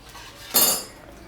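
Metal utensil clinking against a frying pan as fried brinjal slices coated in rava and rice flour are lifted out, a single short bright scrape over faint background hiss.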